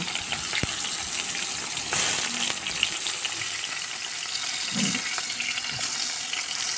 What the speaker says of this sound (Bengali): সেই বেগুনগুলো তেলের মধ্যে এবার ভেজে নেব